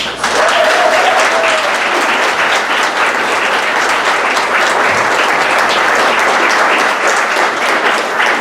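A campus audience applauds to welcome an Appalachian poet before a gender talk, with steady, loud, sustained clapping filling the room for several seconds without a break.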